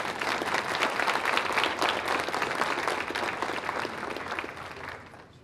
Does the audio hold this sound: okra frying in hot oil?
no